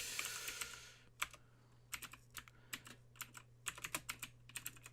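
Computer keyboard clicked rapidly and softly up close while a boot password is typed, irregular keystroke taps over a steady low electrical hum, no talking.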